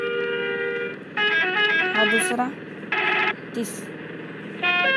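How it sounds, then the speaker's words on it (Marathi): Repeated bursts of a loud, tonal truck horn from the game Truck Simulator Indonesia, several blasts of differing pitch separated by pauses, with someone speaking between them. "हॉर्न तर तेच आहे बघा"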